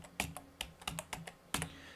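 A computer keyboard is typed on to enter search words, giving a handful of crisp, close key clicks in an uneven rhythm, with a final louder tap near the end.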